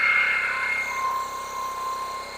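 An old motorcycle engine is held at high RPM, producing a sustained, fairly loud whining drone with steady tonal lines that dips slightly in level partway through.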